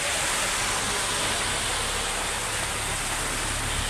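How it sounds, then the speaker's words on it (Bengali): Heavy rain pours down steadily in a village setting, a dense, even hiss that fills the scene from start to finish with no break or voices. "কীভাবে পানি পড়তেছে আকাশ থেকে"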